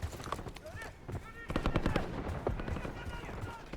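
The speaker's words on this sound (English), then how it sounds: "We've got gunfire to the right." Bursts of automatic gunfire and rapid shots crack through a desert battle in Call of Duty: Black Ops 6, loud and dense, while radio voices talk over the combat.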